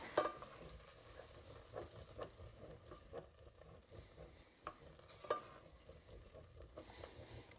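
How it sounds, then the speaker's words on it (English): A spoon stirs sugar into cooked rice in a pot for rice pudding, giving faint, soft scraping and patter with a few light clinks against the pot. "first we're going to add our sugar. And we're going to stir this in until it dissolves"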